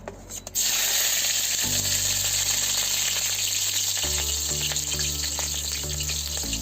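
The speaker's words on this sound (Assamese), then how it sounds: "এতিয়া মোৰ তেল গৰম হৈ গৈছে কেৰাহীত মই এতিয়া জলকীয়া দি আছোঁ প্ৰথমে" Green chilies drop into hot oil in a wok for a dry fish chutney, bursting into a loud, steady sizzle after a brief quiet moment, with a low electric hum shifting pitch beneath.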